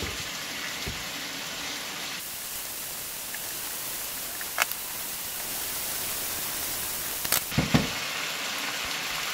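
Steady, even sizzling hiss of food sautéing with fish sauce in a hot pan, with a few faint clicks and taps of a utensil partway through.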